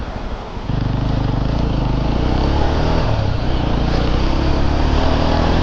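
A Yezdi Adventure motorcycle rides along a hill road toward Ooty, its engine droning loud and steady throughout after a brief quieter start, with no talking.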